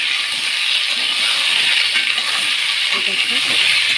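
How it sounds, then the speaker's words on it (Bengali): Potatoes go into hot oil left over from frying snakehead fish, giving a steady, dense sizzle and hiss that runs unbroken the whole time, with faint clinks underneath. "ওই মাছের তেলে আলু দিয়ে দিচ্ছি আলুটা কষাবো"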